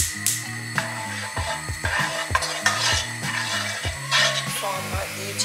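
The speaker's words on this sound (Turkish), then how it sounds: "Soğanları bir kavuralım." Onions sauté in a mix of sunflower and olive oil, a soft sizzle broken by repeated scraping stirs of a utensil against the pan, close up with no talking.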